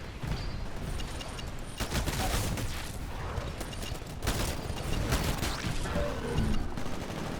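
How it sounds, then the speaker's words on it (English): Bursts of Smart Pistol fire in the Titanfall video game, rapid clustered shots in two or three volleys that crackle at close range over a busy, mechanical battle backdrop, with no voices. "So I did manage to kill a player there with the Smart Pistol"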